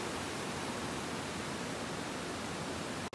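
A waterfall in Laguna roars as a steady, dense broadband wash, loud and close, with no voices over it until it cuts off abruptly at the end.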